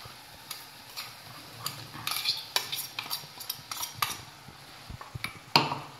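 A spoon scrapes and clinks against a pan while ground masala paste is mixed into a spiced curry of fresh pigeon peas, a steady run of close, light taps and scrapes with faint sizzling beneath.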